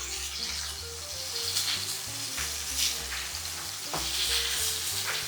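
Aldi and Jimmy Dean sausage patties fry in a pan, sizzling and crackling steadily at close range with occasional pops and faint scraping. No one speaks.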